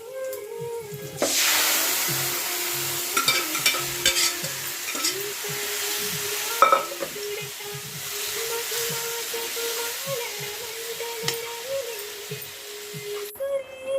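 Onions browned to gold and added gravy fry steadily in a pan for a goat head curry with roti masala, giving a continuous close sizzle with occasional stirring scrapes, with no voices heard.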